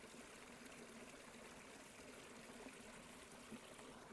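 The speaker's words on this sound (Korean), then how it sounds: "맑은 개울물이 흐르는데요." A clear mountain stream runs beside a small wooden rural cabin in Yangpyeong, flowing down a slight drop about four to five metres wide. The water makes a steady, soft, continuous babble with no voices.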